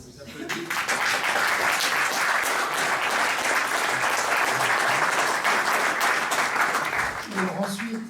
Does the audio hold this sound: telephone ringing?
no